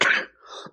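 One person coughs or clears their throat in two short, harsh bursts close to the microphone.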